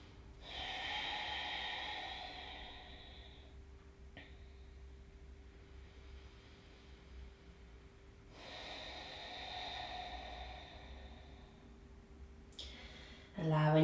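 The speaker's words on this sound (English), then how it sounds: "just start to take some deep inhales and exhales" Slow, deep breathing during a yoga session, two long airy inhale-exhale cycles, soft and close in a quiet room, with a brief click at the end.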